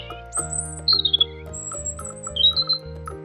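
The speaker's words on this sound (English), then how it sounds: "Robin." A robin sings a few short, high chirps and whistling phrases over sustained background music, the calls bright and close.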